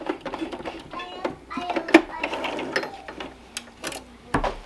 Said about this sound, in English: I need to sew the shoulder seams together.